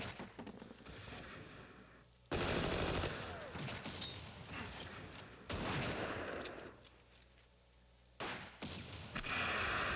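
Hand grenades and gunfire from the World War II strategy game Close Combat, Crete battle: sharp bursts of explosions and rattling shots come in clusters, with quieter gaps between the loud volleys.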